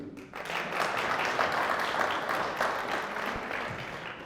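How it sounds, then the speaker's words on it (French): Steady applause from a crowd, a dense wash of clapping that rises quickly and holds at an even level throughout. "On l'applaudit."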